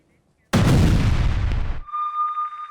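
A missile strike in a residential area: one sudden, loud booming blast with a rumbling tail lasting over a second, followed by a steady high ringing tone.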